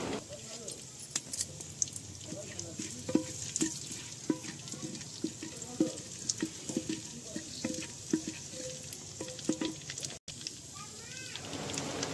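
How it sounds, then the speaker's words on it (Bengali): Whole spices (bay leaf, cumin, cloves, cardamom and dried red chillies) are stirred and fried in oil in a clay pot over a village mud stove. Soft sizzling mixes with scattered scraping and clinking stirs, and a voice talks faintly throughout. "এটিকে এবার আমরা ভালো করে নেড়ে চেড়ে ভেজে নেব।"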